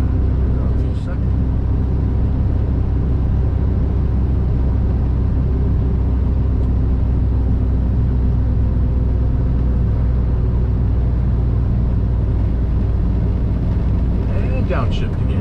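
A heavy truck engine drones steadily while descending a grade as the driver upshifts, a constant loud low rumble with road noise throughout and faint knocks near the end.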